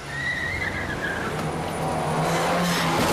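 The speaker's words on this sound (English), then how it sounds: "we hear the distant sound of a car." A car approaching in a TV drama street scene, its tyres screeching in long, high skids that build over a loud engine roar, with no voices.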